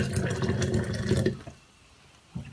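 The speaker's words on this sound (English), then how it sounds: "covered in some hot water," Hot water poured into a glass jar holding a die-cast toy car body, a close splashing, gurgling pour that stops abruptly, leaving near silence and then a small knock.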